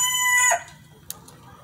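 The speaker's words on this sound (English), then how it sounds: "I hadn't showed you guys these beautiful 9 hens and this rooster in a while" A rooster crows in a rising, drawn-out call, then stops, followed by a couple of short soft clucks against quiet outdoor background.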